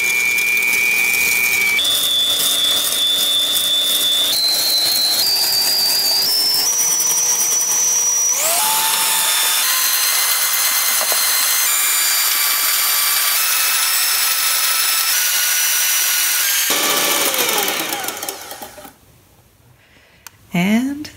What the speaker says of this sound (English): I'm going to take a shortcut and use the hand mixer.